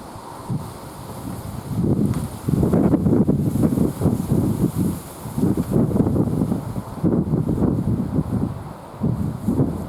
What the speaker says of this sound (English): windy and dark out here.